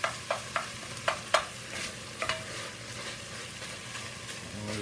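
Sausage sizzles in a pan as a utensil breaks it apart for cornbread dressing, with a series of sharp scraping clacks against the pan over a soft, steady frying hiss.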